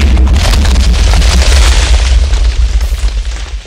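Loud, sustained booming blasts from a tier 2 TNT cannon in the Minecraft video game, a dense rumbling roar of overlapping explosions that fills the whole stretch without a break.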